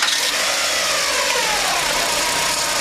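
A Dodge Stratus 2.4 liter engine running with its timing cover off, a loud, steady, close mechanical whirring and clattering hum with no breaks or voices.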